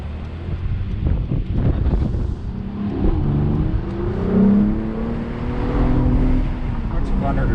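A 2021 Mercedes-AMG GLE 53 Coupe under way, its engine rising in pitch through acceleration beneath wind noise in the cabin, with a person talking over parts of it.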